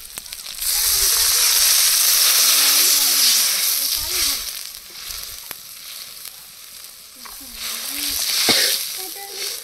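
Water is poured into a pan of frying chilli and garlic, setting off a loud, broad sizzle that fades and then surges again, with a voice speaking briefly underneath.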